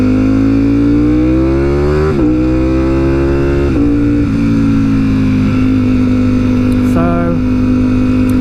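A Ducati StreetFighter V4S motorcycle engine idles loudly and close, then blips its revs several times in sharp rising surges before settling back to a steady, throbbing idle.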